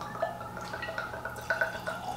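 Jack Daniel's Single Barrel Barrel Proof whiskey poured from the bottle into a glass, a soft liquid trickle with light drips and small glassy clinks, close and fairly quiet with no talking.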